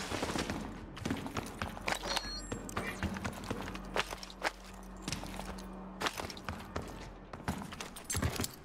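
GPR 91 assault rifle fire in the video game Warzone, rapid sharp shots in clusters mixed with footsteps and movement, fairly faint and busy throughout.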